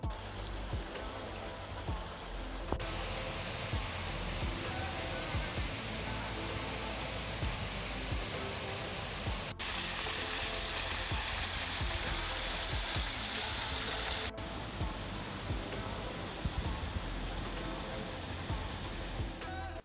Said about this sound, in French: Je suis donc allé voir la petite rivière qui va bien.